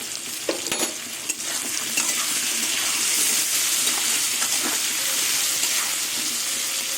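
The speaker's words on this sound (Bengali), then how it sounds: "এবার ভাপনা দিয়ে দিয়ে আলুটাকে" Potatoes sizzle steadily in a pan on the stove with a continuous hiss and occasional stirring scrapes, fairly close and without talk.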